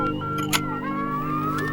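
Digitally encoded music played back from a cassette makes warbling, whistling electronic tones like home computer data tape, with a few brief bursts of noise, steady and continuous without voices.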